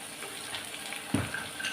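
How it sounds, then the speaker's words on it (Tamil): Water poured into a cooking pot while making mango kulambu (mango curry), a short splashing burst over steady kitchen hiss, fairly close and alone. "தண்ணி ஊற்றிக்கிறேன்."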